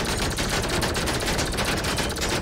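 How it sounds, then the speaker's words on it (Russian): Rapid bullet impacts on a modern tractor in GTA Online. A dense, continuous rattle of hits with a flat, plasticky crackle keeps a steady loud level throughout. "Стреляя по новому, мы слышим привычное нам пластикоотстреливание."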